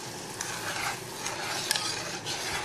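A spoon stirs a pineapple dessert mixture of yellowish-green jelly in a pan, giving a continuous scraping, swishing rhythm with a few sharper clinks, close and fairly loud with no talking.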